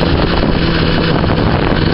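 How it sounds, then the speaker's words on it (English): Strong wind buffets an outdoor microphone, a loud continuous low rumble and roar that swells and churns throughout without letting up. "it's really windy today"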